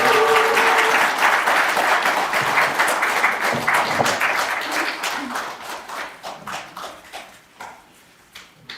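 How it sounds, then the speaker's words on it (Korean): An audience at a Korean internet journalism awards ceremony breaks into full applause that starts dense and loud, then thins out into scattered individual claps as it fades away. "큰 박수 부탁드립니다."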